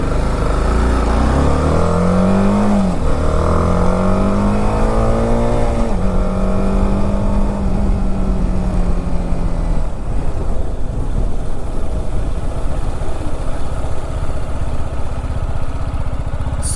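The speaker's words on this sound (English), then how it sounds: "we'll see if the bike's engine sound is heard clearly or not" A motorcycle engine heard from inside a closed helmet drones and revs, rising and falling in pitch as it accelerates through gears, muffled with heavy wind rush underneath.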